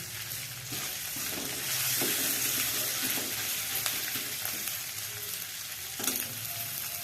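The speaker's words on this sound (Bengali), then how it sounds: "এই লঙ্কা জিরেগুলো ভাজা ভাজা হয়ে এসেছে" Steady sizzling of red chilies and cumin frying in hot oil over low gas, a continuous crackling hiss with a few light scrapes of stirring.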